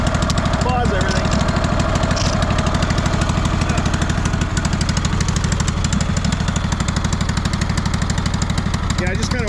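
A 2004 Craftsman DLT3000 lawn tractor engine idles roughly and continuously up close, a loud steady low chugging throughout with a brief higher noise near the start and end.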